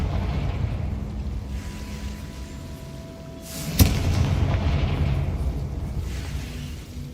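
In Hogwarts Legacy, a Confringo fire spell bursts with a single sharp boom followed by a rumbling tail of crackling blast noise, set against quiet game ambience.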